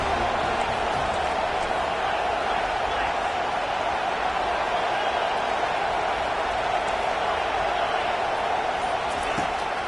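A large football stadium crowd roars steadily and loudly through the whole stretch, a dense continuous wash of cheering with commentary voices running underneath.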